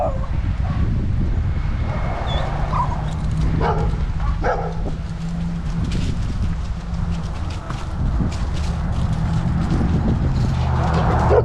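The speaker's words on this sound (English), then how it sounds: "You hear that dog barking at you" A dog barks outdoors at a person and their own dogs during a morning outing, the barks partly buried under heavy, steady wind rumble on the microphone, with a person talking.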